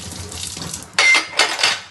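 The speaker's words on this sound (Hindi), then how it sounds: "बर्तन वाली ने कर लिया छुट्टी तो मैं ये बर्तन धो रही हूँ।" Dishes are washed in a home kitchen sink, a tap running in bursts that splash loudly onto pots and plates, with a soft clink of utensils before the water gushes.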